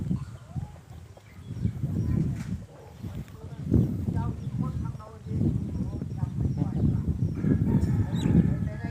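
Chickens peck and cluck over food scraps on a low mound in a village yard in Bualapha, Khammouane, with steady low clucking and scratching sounds running continuously at moderate volume, mixed with outdoor farmyard background.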